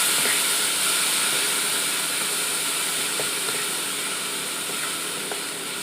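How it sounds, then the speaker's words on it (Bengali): Spices frying with a little water in a pan for a fish-head and bok flower (bokful) dish give off a steady, close hiss of steam and sizzle that holds evenly and fades slightly toward the end. "হালকা জল দিয়ে মশলাগুলোকে ভালো করে ভেজে নিচ্ছি।"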